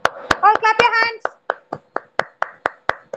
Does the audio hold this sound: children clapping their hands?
yes